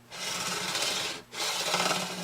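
A fine file drawn lightly along guitar frets makes two steady raspy strokes with a brief gap between, close and moderately quiet.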